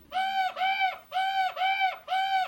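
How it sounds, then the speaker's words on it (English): A crow caws five times in a steady series, loud and close, each call a drawn-out, bending note with short gaps between. "she immediately started cawing a bunch at my picture"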